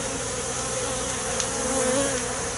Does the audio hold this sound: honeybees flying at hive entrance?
yes